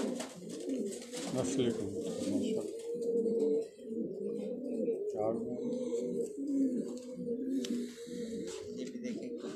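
Fancy pigeons coo in soft, rolling repeated phrases close by, while someone talks over them throughout.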